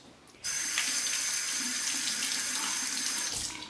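A bathroom tap gushes water steadily into a sink while a razor is rinsed, a close, continuous splashing stream that starts abruptly and runs for a few seconds.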